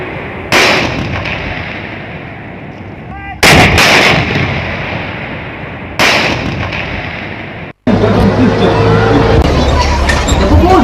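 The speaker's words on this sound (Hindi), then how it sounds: "किस तरह से होवित्जर गन की जो धमाके हैं वो दुश्मन के होश उड़ा सकती है" Four heavy howitzer blasts boom out at intervals, each followed by a long rumbling decay, with the last one ringing into sustained noise.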